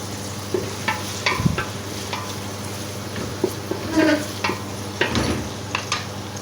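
Onions frying to light golden in a pan for kadhi pakora masala: a continuous close sizzle and crackle with occasional soft spoon scrapes and clinks.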